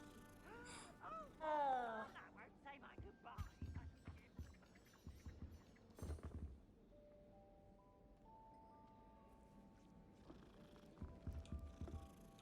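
A small pet cat in the Hogwarts Legacy video game purrs and mews softly, mixed with game music, footsteps and ambient sounds, while a person talks over it at moderate volume.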